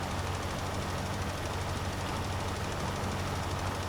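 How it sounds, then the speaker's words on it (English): Tractor engine running in Farming Simulator 25 during fertilizing, a steady low droning rumble with a faint rhythmic chug, continuous and even throughout, fairly quiet, with no talking. "Tractor noise is a little bit low."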